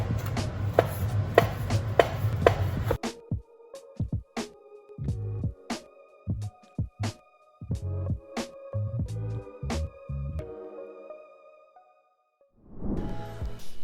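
Knife chopping through Cantonese char siu BBQ pork on a cutting board: a burst of rapid close chops, then a long run of separate sharp thunks with short pauses between them, ending in a soft rustle.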